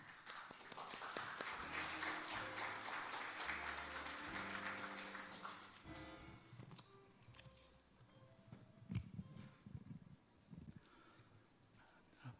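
A conference audience claps at a climate action event, the dense clapping running for about six seconds before thinning into scattered claps and faint room noise, heard fairly distantly.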